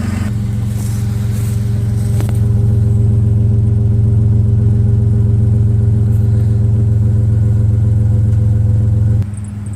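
A Toyota 4Runner fitted with a Thrush muffler idles with a deep, steady exhaust drone, rising slightly around two seconds into a sustained rev and then dropping back near the end, loud and close.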